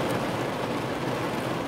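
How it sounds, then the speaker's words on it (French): Heavy rain pours down in a steady, dense, unbroken hiss that stays even in loudness throughout, with no voices heard. "il pleut vraiment hyper fort quoi"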